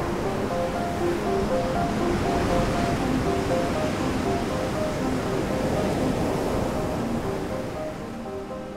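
Ocean surf washes against a shore where graves of a seaside cemetery are being swallowed by the sea, a steady roaring wash of waves with wind noise, loud and constant throughout, no voices.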